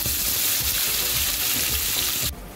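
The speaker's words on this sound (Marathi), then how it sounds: "आता हा कांदा आपला फ्राय झालेला आहे आणि लाल पण झालेला आहे" Onion frying in a pan with garlic, cloves and asafoetida, a dense close sizzle with faint stirring clicks that drops away sharply at the very end.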